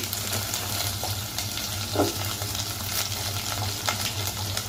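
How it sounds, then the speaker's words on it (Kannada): Chopped onions and green chillies fry in a little oil for a Kannada-style soppina bassaru, giving a steady close sizzle with occasional stirring scrapes and no voices. "ಹೆಚ್ಚಿರುವಂತಹ ಈರುಳ್ಳಿನ ಆ್ಯಡ್ ಮಾಡ್ತಾ ಇದ್ದೀನಿ."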